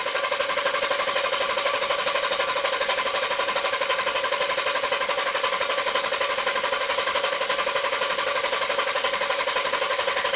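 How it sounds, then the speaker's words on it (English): A car engine cranks steadily on the starter during a relative compression test, a fast, even, mechanical chugging that holds at one level for about ten seconds with no voices. "You can tell that it sounds good when it's cranking."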